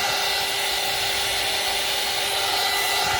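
A heat tool or hair dryer blows to dry gesso for a craft base, a loud, close, steady whooshing hum that runs unbroken throughout, with no talk.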